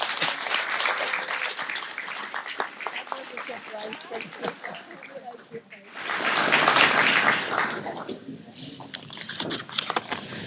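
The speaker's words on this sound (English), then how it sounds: "celebrate her extraordinary achievement with a heartful round of applause again" Applause from a banquet audience honoring community heroes, steady clapping with a louder swell midway, mixed with crowd murmur and talk throughout.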